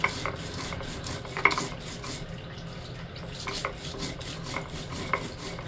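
Chili, onion and garlic are ground by hand on a stone slab (shil-pata): repeated rough scraping and rubbing strokes in a steady back-and-forth rhythm, close and fairly quiet, with occasional sharper knocks.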